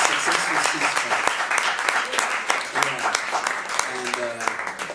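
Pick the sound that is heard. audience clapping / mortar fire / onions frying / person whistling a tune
audience clapping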